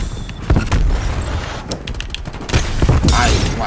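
Dense shotgun fire in a hardcore-mode video game: repeated heavy blasts and sharp transients over loud, continuous game noise, with several bursts clustered near the start and later.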